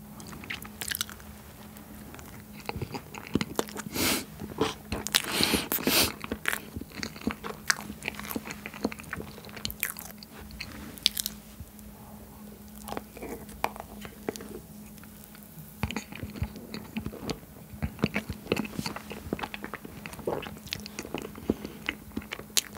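Close, crisp crunching and wet chewing of spicy Buldak ramen with cheese kielbasa and ice cream, a Korean convenience store meal, with steady bites and smacking repeating through the whole stretch and no talk.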